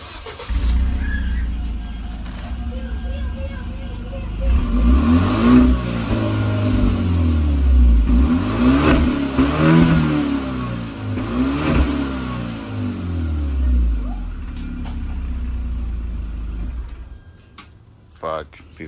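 A Hyundai Genesis 2.0T engine revs repeatedly through a loud ISR Performance GT single exhaust, rising and falling in several strong pulls before settling to idle and cutting off.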